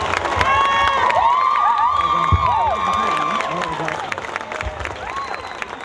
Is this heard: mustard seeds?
no